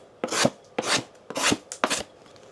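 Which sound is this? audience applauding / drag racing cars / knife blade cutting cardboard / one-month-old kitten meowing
knife blade cutting cardboard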